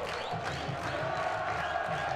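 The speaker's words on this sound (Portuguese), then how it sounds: "A torcida sobe o seu som" Crowd at a football stadium in Ipatinga, Brazil, during a Campeonato Mineiro match: a steady, distant roar of supporters cheering and chanting, a sustained wash of voices at moderate loudness with no clear peaks.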